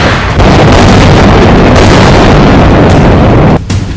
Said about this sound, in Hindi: इजराइल ने हमास की अंडरग्राउंड मेट्रो कही जाने वाली सुरंगों पर भी बम बरसाए।